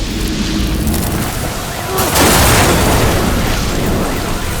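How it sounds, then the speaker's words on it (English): A sewer pipeline explodes during a pressure test, a loud sustained boom and roar that swells midway through and stays dense, broadband and close for several seconds. "During a pressure test on the sewer pipeline, an explosion occurred."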